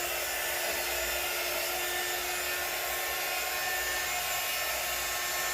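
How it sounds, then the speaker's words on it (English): A heat gun blows over a fresh ceramic tile pour, giving a steady, loud, hissing airflow roar with a constant high whine throughout and no voices. "let's get the heat gun out and see what we can do"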